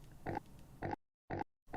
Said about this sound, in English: We got pig.